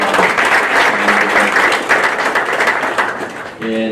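Dense audience applause fills a luncheon hall for a baseball finalist event, loud and continuous before tapering near the end as a voice begins over a brief tonal sound.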